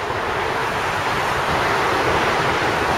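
Steady wind blustering by Sydney Harbour on a cold day, a dense continuous rush with a water-like surge beneath it, loud and close with no voices.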